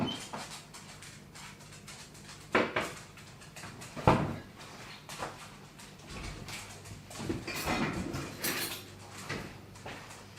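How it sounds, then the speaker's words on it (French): Dishes are unloaded in a home kitchen: a scatter of clinks and knocks, with a couple of sharp clatters of crockery and cupboard-like thuds spread over a low, busy background. "En attendant, je vais vider de la vaisselle."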